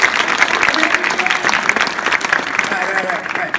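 A workshop audience claps steadily and fairly loudly for several seconds, with voices murmuring beneath the applause.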